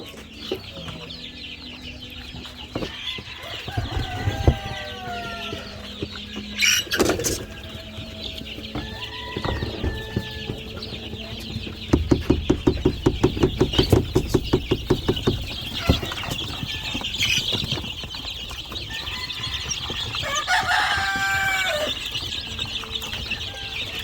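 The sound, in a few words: chickens, White Leghorn crossed with Barred Rock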